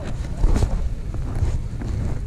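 Strong wind buffets the microphone on winter Mount Akita Komagatake, a loud rumbling roar with gusty low-end thumps and no break across the stretch, with no voices.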